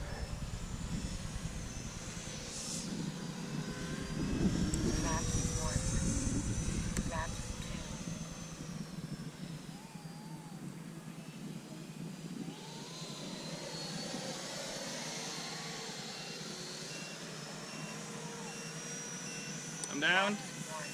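A Freewing F-22 Raptor 90mm electric ducted-fan RC jet comes in to land on a farm airfield, its steady whooshing whine passing from left to right and fading as it touches down.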